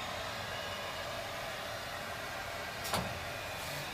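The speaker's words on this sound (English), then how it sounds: "This SMT's order printer is now in continuous operation." A 2017 SMT solder paste printer for PCBs runs continuously, a steady broadband mechanical hiss and whir with a brief louder swish near the end.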